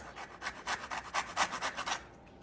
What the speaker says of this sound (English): that has a firm skin so it's easy to zest